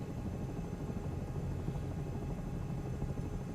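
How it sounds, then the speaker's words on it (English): A helicopter's engine and whirring rotor in Microsoft Flight Simulator 2024 make a steady, continuous droning hum at moderate volume, with no voices over it. "We have helicopter noises."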